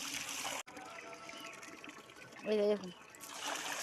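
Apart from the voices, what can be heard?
water hose washing rooftop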